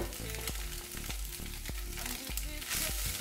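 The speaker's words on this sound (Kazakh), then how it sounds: "Қуырылып жатқан фаршымыздың үстіне су тартылғанша қуырып алдық." Minced meat frying in a pan, cooked until its liquid boils off: a continuous close sizzle with occasional clicks and scrapes from stirring.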